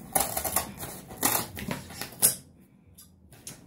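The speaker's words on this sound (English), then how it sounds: "I'm going to cut down the middle." Blade cuts down the middle of a cardboard shipping box, a close series of crisp, rasping cuts and crunches that ends in a final snip, followed by near silence.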